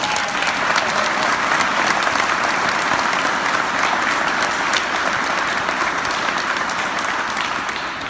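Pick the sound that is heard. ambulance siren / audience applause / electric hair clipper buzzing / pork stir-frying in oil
audience applause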